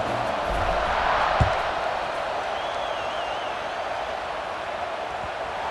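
A football stadium crowd buzzes before a kickoff in a tied fourth quarter, a steady broad roar of distant voices with a faint whistle-like tone and one brief thump.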